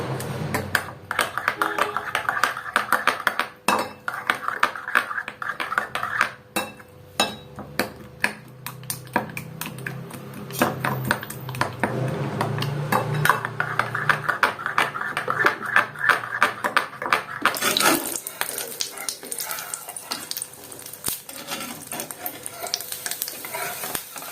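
Steady whisking of a meen kuzhambu spice mixture in a bowl, a continuous scraping stir with light clicks and taps, loud and close for most of the stretch, changing to a brighter clatter near the end.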